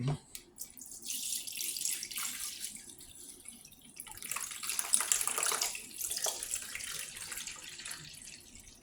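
Water runs steadily into the back reservoir of a 12-cup drip coffee maker, a continuous hissing pour close by that swells and fades in strength for several seconds.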